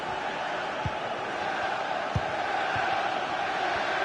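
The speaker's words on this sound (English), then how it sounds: "Well, just listen to this crowd." Stadium crowd in a FIFA career-mode football match during the Watford play-offs, a steady loud roar of supporters filling the whole moment with a few brief thumps, no commentary over it.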